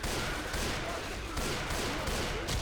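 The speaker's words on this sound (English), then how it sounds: "Let me get up here and just shoot at these guys from behind cover." Sustained rapid gunfire in Left 4 Dead 2 as zombies are shot from behind cover, a dense loud burst of overlapping shots with no pause.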